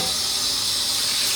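Marinated pork ribs are rinsed under running water, a steady close splashing hiss that fills the whole moment without any talk.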